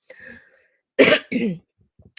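Two harsh coughs in quick succession, close and loud, after a brief faint sound and followed by quiet.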